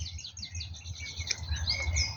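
Small songbirds chirp and twitter in quick, high bursts, fairly close, over a low outdoor rumble.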